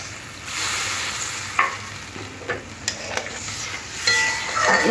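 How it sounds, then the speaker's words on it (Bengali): About one and a half cups of water hitting a hot pan of Bengali small-fish curry spiced with ginger-cumin paste, giving a steady close broadband sizzle and hiss with a few sharp splashes and stirring clinks, no voices. "এবারে জল দিয়ে দেব, আর একটু জল দিয়ে দেব।"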